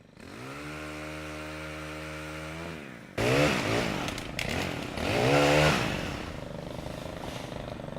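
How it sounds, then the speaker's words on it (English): A chainsaw cuts the lower branches from a street tree: a steady, even whine for about three seconds, then rougher, louder bursts of revving as the saw bites into the wood, close by. "So we're going to remove every branch below that point."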